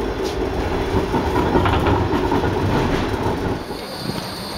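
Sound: tram in Frankfurt

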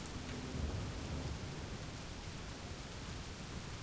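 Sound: thunder and lightning storm in video game Cliff Empire

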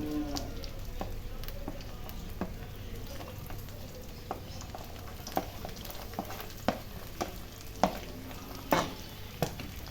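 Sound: ginger and garlic sautéing in oil for beef pickle

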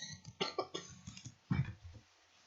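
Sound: cough

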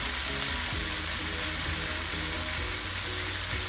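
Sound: fish curry simmering after gravy is added

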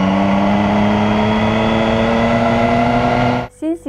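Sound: Triumph Street Triple 675R motorcycle engine

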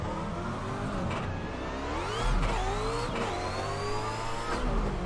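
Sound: car engine revving in racing video game

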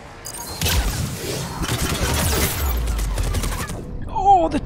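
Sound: turret gunfire, from the video game Mass Effect 3

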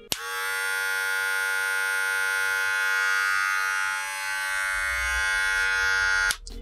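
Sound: Wahl Super Taper cordless hair clipper switched on

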